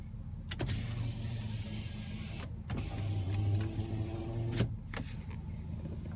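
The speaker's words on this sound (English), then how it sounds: "right here next to it is the full-powered sliding rear window" Power sliding rear window on a 2019 GMC Sierra 3500HD Denali dually truck, heard as a faint electric motor hum with soft clicks and thumps inside the cab, rising and stopping over a few seconds.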